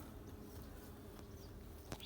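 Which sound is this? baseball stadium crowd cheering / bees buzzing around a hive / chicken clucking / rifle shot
bees buzzing around a hive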